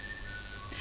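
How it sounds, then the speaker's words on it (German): A person whistles a single faint, sustained note that glides slightly downward, short and thin against a noisy background hum. "I think you can whistle pretty good"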